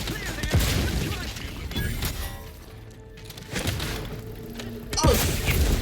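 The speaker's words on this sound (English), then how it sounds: "Grenade away." Grenade blast in the video game The Outer Worlds 2, a couple of booming thuds with crashing debris amid game noise, one hit near the start and another near the end.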